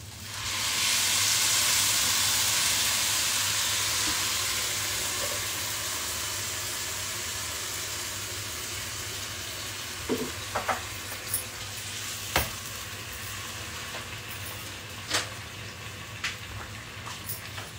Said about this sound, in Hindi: ये पानी उबल रहा है